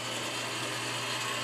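A mini conveyor dryer with an 18 by 18 flash dryer, used for screen printing t-shirts, runs with a steady mechanical whir and light ratcheting hum, close and continuous.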